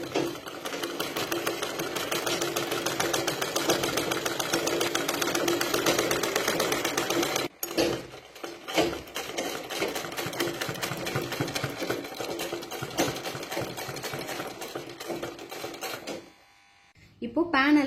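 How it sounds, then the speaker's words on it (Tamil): A sewing machine stitching slowly along the neckline of a churidar made from an old saree runs loud and steady, stopping briefly twice before resuming at the end. "இந்த நெக் லைனை ஒட்டி ஸ்லோவா ஸ்டிச்சஸ் போட்டுட்டு வாங்க"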